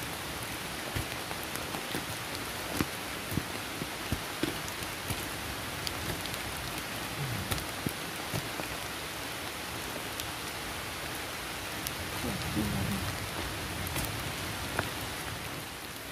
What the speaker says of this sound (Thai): โอ้มืดขนาดนี้มาพร้อมสายฝนเลย